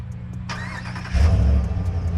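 The 5.7-liter Hemi V8 of a 2021 RAM 1500 Sport pickup cranks briefly, then catches and settles into a deep, loud idle rumble close by, with a slight rev as it fires.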